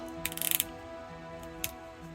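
A NECA Dungeons & Dragons Strongheart 7-inch action figure has its plastic foot joint swiveled, giving a quick burst of small ratcheting clicks followed by one more faint click, close up with no talking.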